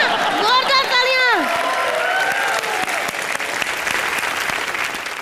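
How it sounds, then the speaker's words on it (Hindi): Studio audience applause on the Comedy Nights Live comedy show, continuous crowd clapping that opens under a rising, swooping musical sting and then carries on steadily to the end. "जोरदार तालियां"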